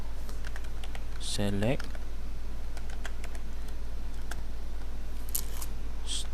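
Rapid light clicks of a computer keyboard as a command is typed, in quick bursts, with someone speaking briefly over the keystrokes against a steady low hum.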